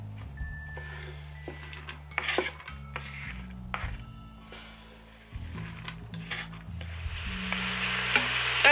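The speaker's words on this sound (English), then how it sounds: "now we're sauteing, sizzling in there" Mushrooms and vegetables sauteing in hot oil with red pepper flakes for a spicy Thai chicken soup, giving a steady close sizzle and crackle that swells toward the end, with occasional utensil clinks and stirring scrapes.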